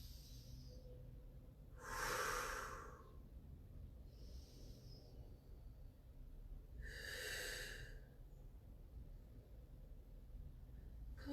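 Two deep, breathy inhalations or exhalations about five seconds apart during a Pilates stretch, soft and close, over a quiet background hiss with no talking.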